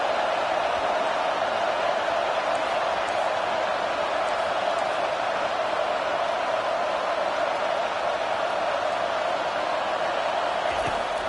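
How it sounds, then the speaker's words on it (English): A home crowd at a college football game roars in a constant, dense wall of cheering and noise on a third-down play, loud and unbroken throughout. "Here comes this home crowd as the defense tries to get off the field on 3rd down."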